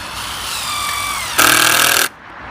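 Power drill driving screws into a campaign sign, a loud steady motor whine that rises in pitch and intensity as the screw seats, then stops abruptly, very close.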